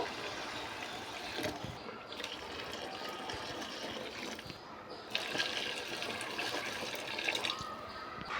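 Hot water is poured into a pot of roasted rice. A steady, close pour runs the whole time and swells slightly near the end.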